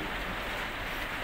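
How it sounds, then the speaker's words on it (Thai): Light morning rain falls in a steady, soft hiss of even, continuous patter with no other sounds standing out. "มีฝนตกนิดหน่อยนะครับมีฝนตกนิดหน่อยไม่ตกเยอะเท่าไหร่"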